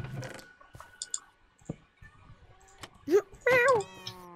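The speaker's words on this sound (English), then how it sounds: "No, you hit my cat." Minecraft cat meowing in-game, a couple of short rising meows near the end after scattered clicks and thumps of gameplay, with a person talking over the game.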